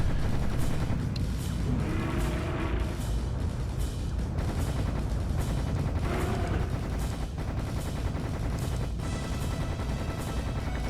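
Rocket fire and explosions in the shooter game Serious Sam: The First Encounter form a dense, steady barrage of rapid booming blasts and rattling gunfire, loud and relentless, with no talk.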